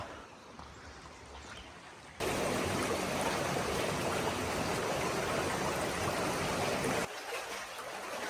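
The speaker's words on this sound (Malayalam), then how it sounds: "ആ ഒരു കാട്ടിൻ്റെ ഉള്ളിൽ നിന്നാണ് ഈ ഒരു നദി ഇങ്ങോട്ട് ഒഴുകി വരുന്നത്" River water rushes out of a forest toward a limestone cave, a soft flow swelling abruptly into a loud, close, steady roar for several seconds before dropping back to a quieter trickle.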